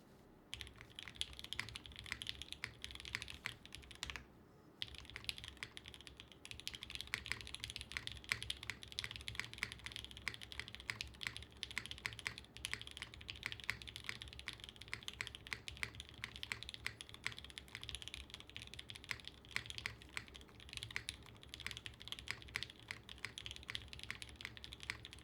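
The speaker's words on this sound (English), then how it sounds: "can I hear a typing test of the board?" Steady, fast typing on a Geonworks F2 mechanical keyboard: dense, continuous clacking keystrokes close up for about 25 seconds, with a brief pause early on.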